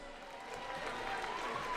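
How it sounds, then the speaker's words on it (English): Spectators applaud during a break at a WNBL semi-final women's basketball game between Jayco Rangers and Perth Lynx, a brief steady wash of crowd clapping in an arena. "Give Olivia a round of applause."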